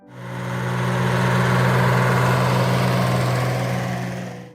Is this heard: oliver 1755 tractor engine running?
yes